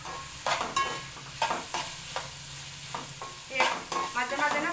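Freshly ground ginger paste frying in a pan for egg curry sizzles while being stirred, with repeated scraping strokes of the spoon over a steady hiss, close and clear, with no talking.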